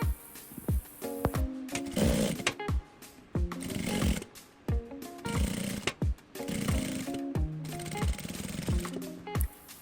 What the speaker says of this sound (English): then top stitch on the sides of the fabric. I'm going to sew all round.